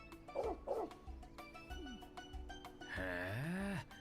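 A dog in Trails Beyond the Horizon gives two quick barks, then a long rising and falling whine or howl near the end, over steady game music with occasional soft clicks.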